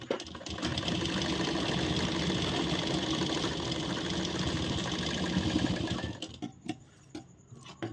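A sewing machine stitches a princess-cut, back-neck blouse in a steady, continuous whir, loud and close for about six seconds before stopping abruptly into quieter handling noise.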